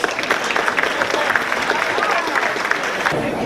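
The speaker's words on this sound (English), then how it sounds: "Please give the Justice a round of applause." An audience at an awards dinner gala applauds Michigan Supreme Court Justice Richard Bernstein with steady, dense clapping that fills the room throughout.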